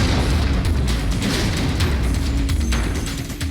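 A bomb is destroyed by controlled detonation inside a deep pit dug with a JCB in Delhi, heard as a loud, sustained roaring rumble that fills the whole stretch and eases only slightly at the end.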